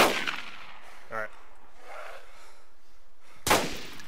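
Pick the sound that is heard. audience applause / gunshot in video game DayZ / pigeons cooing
gunshot in video game DayZ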